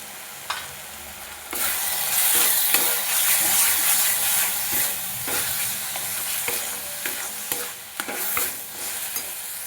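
Tomato paste with turmeric, salt, cumin and coriander powder frying in a pan for a prawn malai curry, a steady close sizzle broken by repeated scraping stirs, with no talking.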